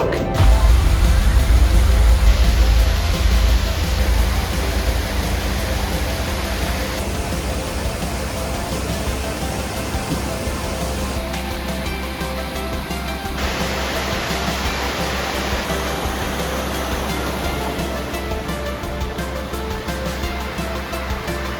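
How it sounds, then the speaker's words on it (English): The multiple drops of Eros waterfall in Eros Park on the Isle of Mull in Scotland, a steady, loud, broadband rush of falling water heard close up, with no talking. "Our first stop was the multiple drops of Eros waterfall inside Eros Park."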